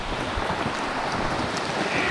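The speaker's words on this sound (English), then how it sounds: "It's not kind of raining, it is raining. It's freaking pouring." Heavy rain pours down during a thunderstorm while someone is out fishing, a dense and steady hiss of drops hitting water and surfaces, loud and unbroken with no thunder audible.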